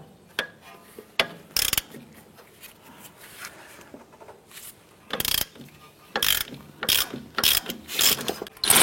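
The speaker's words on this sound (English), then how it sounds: "Using a 14mm socket, let's go ahead and remove our upper clevis fork bolt." Ratchet with a 14mm socket working loose an upper clevis fork bolt, quick bursts of close metallic clicking separated by pauses, then a denser run of ratcheting toward the end, recorded fairly quietly.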